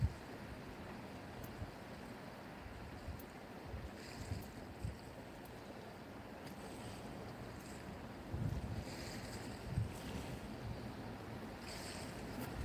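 Strong wind blows across the water during ray fishing, producing a steady, close buffeting rumble on the microphone with faint splashes and knocks beneath it and no talking.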